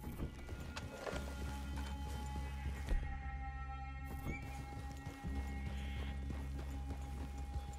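Horses walking in Red Dead Redemption 2, a steady clip-clop of hooves under low ambient game sound and music, with no talk.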